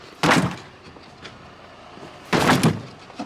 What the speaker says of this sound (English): I wonder if I can kick the door off.